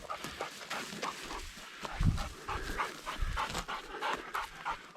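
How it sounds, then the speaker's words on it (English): Dog panting on a mountain ridge hike, rapid rhythmic breaths close to the microphone alongside footsteps and a light outdoor breeze, continuing steadily with no talk. "with a panting dog"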